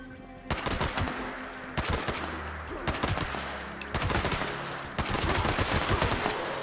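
Automatic weapon bursts in the game Fallout 76, five separate rapid-fire volleys of about a second each, spaced by brief pauses, fairly loud and close, with no voices.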